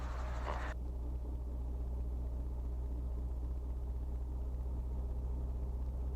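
A helicopter engine winds down after landing as the throttle is rolled off, a steady low rumble with a higher whine that cuts out early, leaving the deep drone running on its own.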